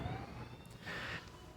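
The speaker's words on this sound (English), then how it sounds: "Sorry about the siren." A siren wails faintly in the distance, its tone rising and holding briefly over low background rumble.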